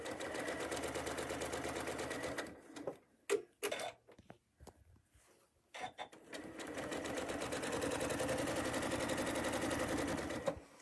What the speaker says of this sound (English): Just going to make sure that my seams stay flat as I'm sewing.